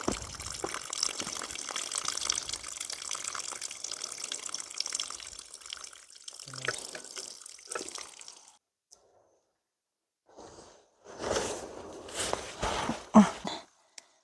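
Steady rushing water flows for several seconds, then stops; after a short silence come a few louder splashing and knocking sounds close by.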